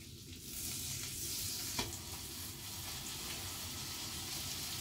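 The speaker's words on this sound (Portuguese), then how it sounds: "Fritar, torrar um bocadinho o pão com a manteiga" Bread toasting in butter in a frying pan gives a steady, close sizzle that runs unbroken through the clip, with a faint light scrape partway.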